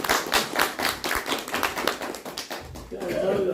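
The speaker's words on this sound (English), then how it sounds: "Let's give her a round of applause." A small group claps for a few seconds in a devotional talk setting, sparse and uneven rather than a full ovation, fading out as a voice resumes near the end.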